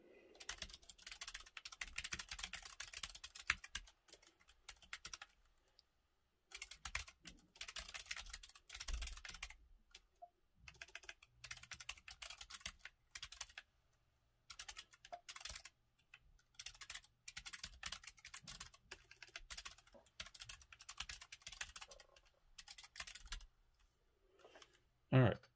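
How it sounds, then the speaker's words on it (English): Someone types on a Keychron K3 low-profile mechanical keyboard fitted with hot-swappable optical blue switches, producing crisp, clicky keystrokes in quick bursts with short pauses between runs, close and clear. "This is the first time typing on the optical blues."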